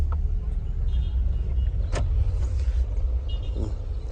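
A Renault Sandero car drives along, its engine a steady low rumble with road noise heard from inside the cabin, plus a few faint clicks and rattles.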